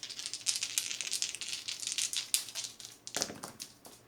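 Three dice rattle and clatter across a tabletop during a Final Girl board game turn, a dense burst of rapid clicks with a second sharp tumble near the end, fairly close and alone.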